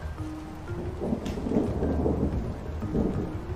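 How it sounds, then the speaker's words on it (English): Deep rolling thunder rumbles and swells in steady waves over a soft background of falling rain, loud and continuous with no voices. "it started thundering on me"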